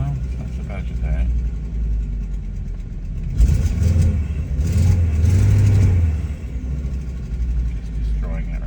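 A 1999 Volvo S70 Turbo with a hesitation fault accelerates with the throttle floored, its engine rising to a louder, rumbling surge in the middle before easing back. A person talks over it.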